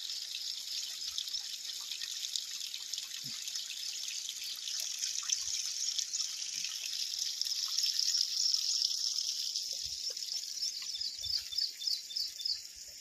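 Water pours continuously from a borewell as a steady, fairly faint hiss and splash, with small drips and patters scattered through it and no voices.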